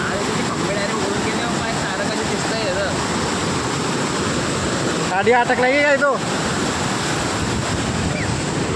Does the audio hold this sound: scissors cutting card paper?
no